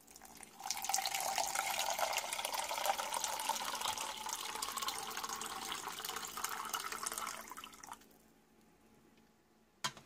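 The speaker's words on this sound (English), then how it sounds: "Give it a half a canteen cup of water." Water poured into a metal canteen cup to mix an MRE drink, a steady close splashing pour lasting about seven seconds before it stops, followed by a brief clink.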